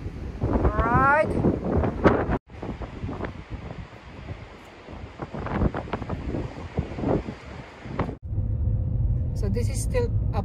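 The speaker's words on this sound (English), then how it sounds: "Oh my god, the wind is so strong." Strong wind buffets an outdoor microphone at Port Kembla near Wollongong, a steady roaring rumble that runs nearly throughout, with a person talking over it and a brief drop partway through.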